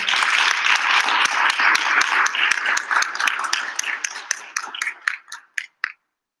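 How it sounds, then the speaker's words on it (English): Audience applause at a Bharatanatyam arangetram, a dense steady clapping from a crowd that thins into scattered individual claps and stops near the end. "Let's give him a round of applause."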